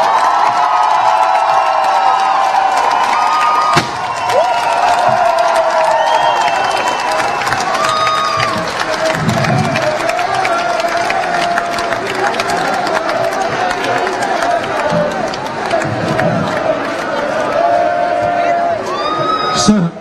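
Rowdy carnival crowd at a prince's installation night, loud cheering, whooping and shouting mixed with clapping, sustained and close, with voices calling out throughout.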